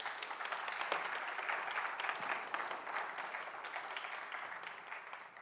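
A large audience at a Phi Theta Kappa induction ceremony breaks into sustained, dense applause, a steady wash of many hands clapping at an even level from start to finish.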